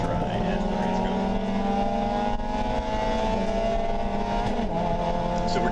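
A race car at a national event drives a drying wet track while working past a red Toyota MR2. The engine roars loudly and continuously from onboard, its pitch sliding with throttle and gear changes.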